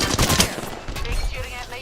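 Rapid automatic gunfire rattles during a Fortnite battle, a loud, close burst of repeated shots over a couple of seconds with faint background noise.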